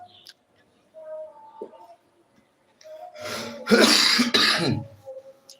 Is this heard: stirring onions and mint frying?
no